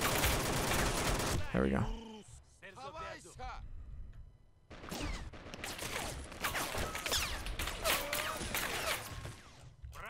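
Dense, loud automatic gunfire and battle noise from Men of War: Assault Squad 2 in Grozny city fighting, near-continuous volleys with a short lull, while a person talks briefly over it.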